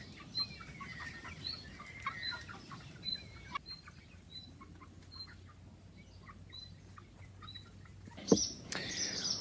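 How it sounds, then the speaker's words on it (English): Happy backyard chickens run off to eat raspberries, giving soft, scattered clucks and calls at moderate distance across the whole stretch, with a louder burst near the end. "There are some very happy chickens, all running off to eat all the raspberries"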